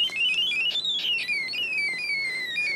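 An electronic alarm tone from a Snap Circuits alarm IC, with its jumper wires placed in water, warbles in a shifting, siren-like pitch, rising and falling steadily and fairly loud for the whole stretch, with no talk.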